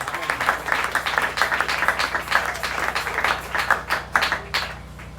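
A church congregation claps in a quick, even rhythm at a Pentecost 2022 celebration. The clapping is moderately loud and keeps up steadily throughout, with voices blending in underneath.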